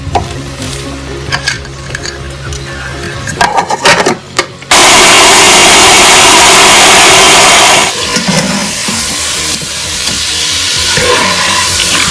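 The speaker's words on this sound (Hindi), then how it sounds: "अब हम इसको चॉपर में डालेंगे और इसको चॉप कर लेंगे" Electric chopper whirring loudly as it chops fried onion, a dense steady motor roar lasting a few seconds, framed by softer clattering kitchen handling before and after.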